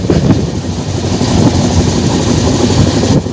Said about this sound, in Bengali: আমাদের ওভারটেক করে চলে গেল তিরুপতি থেকে সাঁতরাগাছি হামসাফার এক্সপ্রেস।